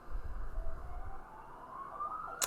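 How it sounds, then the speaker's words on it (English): Faint emergency siren wailing outdoors in the distance, a thin rising tone under a low rumble, with a brief sharp click near the end. "Don't know if you can hear those sirens, but that's certainly happening in the background."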